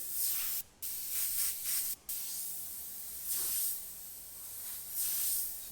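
A Sagola XTECH 300 airbrush sprays paint in steady hissing bursts, about five close, fairly quiet sprays of differing length with brief trigger pauses between them and no talking.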